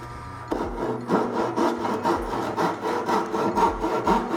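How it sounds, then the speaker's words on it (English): A hand saw cuts relief cuts into the wooden frame of a PlyBeam surfboard kit, a steady back-and-forth rasp of about a dozen quick strokes, close and clear with no voices. "sometimes your saw tends to dive in and can cut into that frame"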